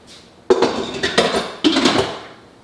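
A metal lid clanks down onto a cooking pot twice, each hit followed by a short ringing rattle, close and fairly loud.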